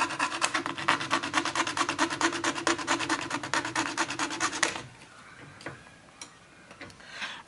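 A hacksaw blade rasps through PVC pipe to clean up the hand holes, a fast, steady back-and-forth sawing up close that stops partway through, leaving a few faint scrapes and knocks.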